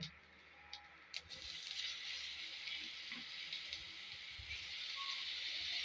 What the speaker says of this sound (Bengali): শুকনো লঙ্কা কালো জিরে জিরে দিয়ে হালকা ভেজে নিয়ে আলুগুলো